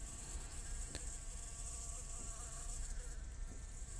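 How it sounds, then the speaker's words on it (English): A bee buzzes steadily and close throughout, a continuous insect drone with faint background noise and no talking. "this bee is very disturbing, isn't it?"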